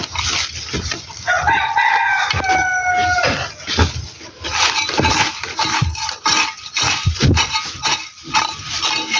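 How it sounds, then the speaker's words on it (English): A chicken in a Nigerian neighborhood crows loudly and clucks repeatedly, close to the microphone, while street and yard noise continues underneath throughout. "I think this fowl is even disturbing."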